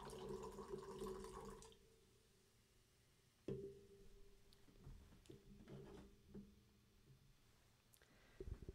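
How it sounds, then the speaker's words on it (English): Pineapple PHOCUS energy drink pours steadily for a moment, then a quieter stretch with small clinks and splashes of the drink being handled nearby. "after doing the gimmicky stolen Salt Bay pour"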